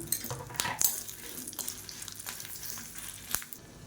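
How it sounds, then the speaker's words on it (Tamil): About fifteen dried red chillies frying in oil in a kadai for village-style coriander thokku, crackling and sizzling softly while a spoon scrapes and taps the pan now and then, close and fairly quiet. "இப்போ இதையும் சேர்த்து நல்லா வறுத்துக்கலாம்"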